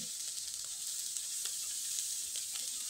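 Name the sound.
potato filling stirred in a pan, sizzling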